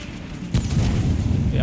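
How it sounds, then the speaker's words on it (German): A grenade goes off in the video game Tom Clancy's The Division as a sudden deep boom, followed by a rumbling low roar that keeps going. "So, jetzt kommt eine Granate irgendwo."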